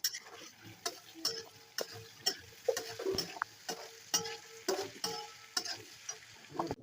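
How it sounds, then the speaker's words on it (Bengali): Potatoes fry in a pan on a camp stove during a cycling trip, with a faint sizzle under regular sharp clicking stir strokes about twice a second. "আগে আলুটা ভেজে নিই।"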